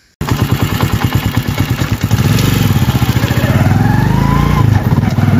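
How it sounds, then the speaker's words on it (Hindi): A motorcycle engine runs steadily while being ridden through a foggy village on a cold winter day, a loud, close, continuous throbbing drone that rises slightly in pitch partway through, with no talk over it. "मैं बाइक पे जा रहा हूँ"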